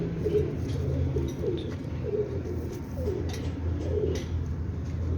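Golden Kamanger pigeons coo in a repeated rhythmic series at a Rawalpindi breeder's loft, the soft throaty calls recurring about once per second over a steady low background hum.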